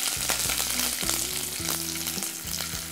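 Mustard seeds, cumin, split dried red chillies and green chilli pieces frying in hot oil as a tempering for cucumber curry, a steady close crackling sizzle with repeated low clanks from a stirring spoon against the pan.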